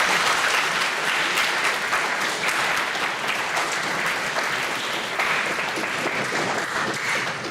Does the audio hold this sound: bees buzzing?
no